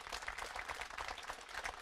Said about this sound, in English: I think we owe them an unbelievable round of applause